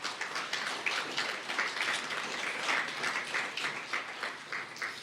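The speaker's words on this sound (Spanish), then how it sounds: "¿Por qué no das un fuerte aplauso a Dios en esta mañana?" A church congregation claps in dense, steady applause during a Spanish-language Sunday morning service, filling the room evenly without voices for about five seconds.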